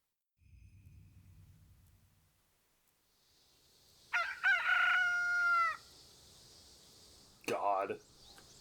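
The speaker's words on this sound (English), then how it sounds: "I heard that chicken crow and I had every flashback to Ocarina of Time" A rooster crows once in the Fate/Samurai Remnant video game, a loud, drawn-out, tonal cock-a-doodle-doo followed by a brief squawk-like burst, after a quiet low rumble.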